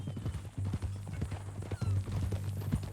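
Horse hooves clip-clop in a steady walking rhythm in the video game Red Dead Redemption II, close and fairly quiet, with a low background hum.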